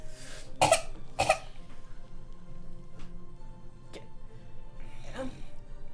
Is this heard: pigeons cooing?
no